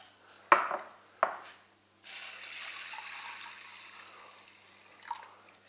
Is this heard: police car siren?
no